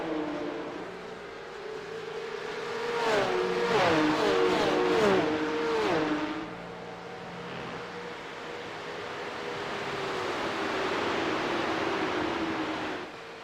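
A Porsche Cup race car at Watkins Glen runs at full throttle. The engine howls loudly, climbs through several quick upshifts with a rising, stepping pitch, then settles into a sustained high drone.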